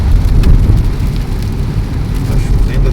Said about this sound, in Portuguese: Tá chovendo até bem, viu?